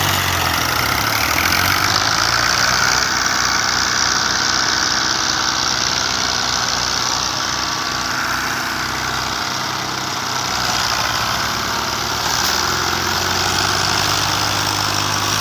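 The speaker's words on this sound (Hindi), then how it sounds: "छिक टाइट करके फिर गाड़ी को बिस्मिल्लाह करके स्टार्ट करके और आगे निकालते हैं" A tractor hauling a sugarcane cart, stuck in the field, runs its engine in a loud, continuous, steady rumble that holds throughout, close by with no voices.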